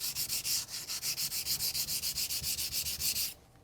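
A Takeda knife bevel is stroked back and forth by hand across a sharpening stone, about twenty quick, even rasping passes close up, stopping abruptly near the end with no talking.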